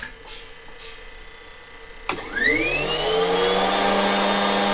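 A restored military vehicle engine cranks with a sharp jolt, then catches and rises into a steady, loud running drone with climbing whine, close by with no talk.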